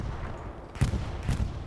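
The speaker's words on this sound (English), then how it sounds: "Oh, it's the AT cannon." An anti-tank cannon fires in the Hell Let Loose battlefield game, two sharp booming shots about half a second apart over a low rumbling background of distant combat.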